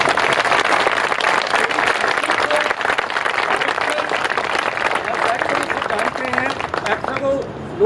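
Theatre audience at Jashn-e-Adab applauds after a Hindi stage play, sustained crowd clapping filling the hall, gradually thinning toward the end as a voice begins speaking over it.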